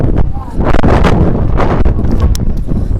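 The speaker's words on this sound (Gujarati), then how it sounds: "જો ખાલી પવન જોવો તમે" Strong wind buffets the microphone in continuous loud, rumbling gusts on the exposed stairway of Girnar hill, with voices faintly present in the roar.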